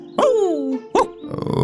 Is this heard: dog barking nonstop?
yes